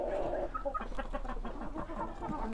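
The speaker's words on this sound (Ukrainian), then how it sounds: "І в нас з'явився ось такий красень півень." A Bielefelder rooster clucks and murmurs nearby in a steady stream of short, throaty calls, with other fowl faintly audible and no one talking.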